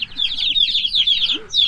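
Backyard chickens cluck and squawk in a close, loud, busy chatter of overlapping calls, a brief pause near the end before another burst.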